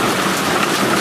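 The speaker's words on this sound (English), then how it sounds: "waiting for it to stop raining." Heavy pouring rain with hail falling around a shelter structure outdoors at night, a dense, steady, loud hiss with no voices.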